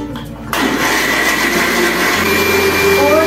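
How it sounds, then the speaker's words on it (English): A blender starts up for an Oreo milkshake, a loud steady whirring motor roar that kicks in after a brief moment of quieter sound and holds, rising slightly in pitch. "turn on the blender and wait 1 minute."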